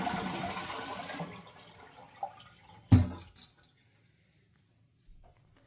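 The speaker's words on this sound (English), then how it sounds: "I think it's easiest to flush the toilet just so you don't have to keep working in the water" A toilet is flushed while its flapper is being replaced. Water rushes out and gradually fades, then there is a sharp clunk and a few faint trickles before it goes quiet.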